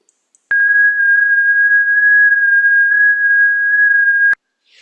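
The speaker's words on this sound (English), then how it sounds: "This is what FT8 sounds like." FT8 digital amateur radio mode tones play as one steady, clear electronic tone held for about four seconds, starting and stopping abruptly, with no talk.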